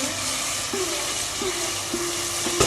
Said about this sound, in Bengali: এখন ভালো করে মিক্স করে মশলাটা কষিয়ে নেব।